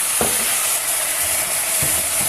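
Caramelized onions with a little chili sauce, cooked for an Indomie kabsa, sizzle steadily in a pan as a spoon stirs them, with two distinct scraping strokes over the hiss.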